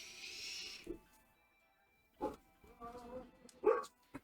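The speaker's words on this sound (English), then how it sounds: "Dog's barking." A dog barking somewhere indoors, a few separate short barks spaced across several seconds, fairly faint and distant, with no talk over them.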